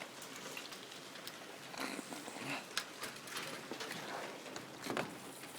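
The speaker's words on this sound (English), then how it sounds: "Biggest hail I've ever seen here." Hail from a hailstorm pelting down near a porch, a quiet, irregular patter of hard impacts with occasional louder bursts, heard from a short distance with no talking.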